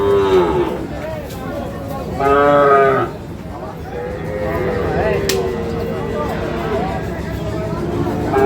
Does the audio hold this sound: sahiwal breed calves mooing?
yes